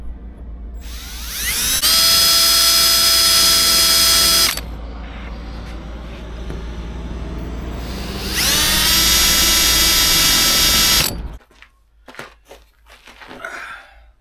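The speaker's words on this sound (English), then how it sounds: "now we're going to put the pre-drill mark holes in every joint all the way around." Two loud bursts of a high-pitched power drill biting into the metal frame of a Ford Transit van, drilling pilot holes, each lasting a few seconds, followed by clattering and handling noises.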